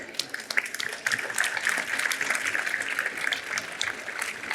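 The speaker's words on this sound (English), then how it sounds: "I first want us to clap for the panelists that we have over here." A conference audience claps for climate panelists, a crowd of hands producing irregular bursts of clapping that swell and continue steadily, fairly close and loud, with some voices mixed in.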